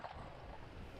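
Horse hooves clip-clop faintly at a steady walking pace in Turner Falls Park, Davis, Oklahoma, as horses are paraded through the park, mixed into a continuous low outdoor rumble.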